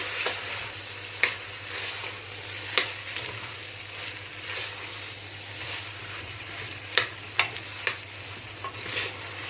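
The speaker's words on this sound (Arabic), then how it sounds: "تقلبيه كويس لغايه لما الرز يسخن بالشكل ده" Rice is stirred in hot fat in a pan, giving a soft steady sizzle with a low hum beneath and a few sharp scraping clicks from the spoon, close and fairly quiet.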